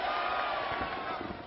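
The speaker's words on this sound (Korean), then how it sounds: "사람들은 이들에게 환호합니다." A crowd roars and cheers in a dense, sustained wash of voices, loud and steady throughout with no distinct individual words.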